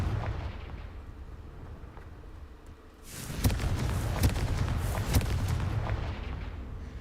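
A Confringo fire spell cast in Hogwarts Legacy bursts into a loud, crackling blast after a brief quiet lull, followed by several sharp pops and booms over a steady rumbling game backdrop.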